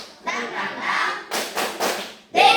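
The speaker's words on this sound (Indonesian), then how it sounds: "Tepuk semangat" Students stand and perform a rhythmic spirit clap in a classroom, with chanted young voices followed by several sharp group claps in a short pattern.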